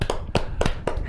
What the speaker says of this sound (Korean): 우리 윤 총장 힘내라고 박수 한번 칩시다